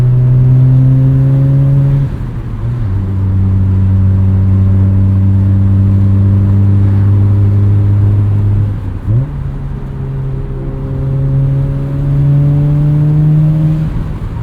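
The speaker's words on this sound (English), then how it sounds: "nothing sounds like a rotary" Twin-turbo rotary engine of a 1994 Mazda RX-7 revving hard from inside the car with the windows up, a loud steady drone rising through the gears with two clear shift breaks along the way.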